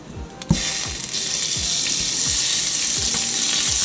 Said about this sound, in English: we're gonna add some oil to this. Some more unsalted butter.